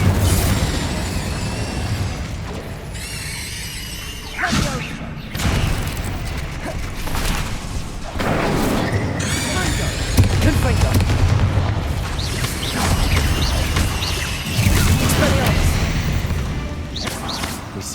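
Rapid Incendio and Confringo spell explosions in Hogwarts Legacy combat. Loud booms, bursts and crashes follow one another almost continuously over a dense roaring battle mix.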